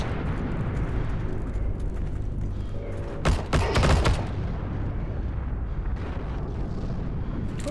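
Video game tank bombardment on a battlefield sends a burst of heavy explosive blasts and crackling gunfire in the middle, loud against a constant low rumble of battle ambience, with no voices.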